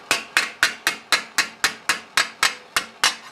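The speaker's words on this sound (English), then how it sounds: "I'm doing hammer blows like this." Steel edge of a Milanese mitten gauntlet, circa 1450 style, being rolled with hammer blows: twelve sharp, loud metallic strikes at a brisk, steady rhythm, each ringing briefly before the next, with no voices.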